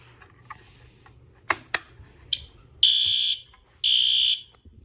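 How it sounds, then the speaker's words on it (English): A newly installed fire alarm panel sounds after a pull station is activated: a few sharp clicks, then two sustained, loud electronic alarm tones, each lasting about half a second to a second. "Alarm activated."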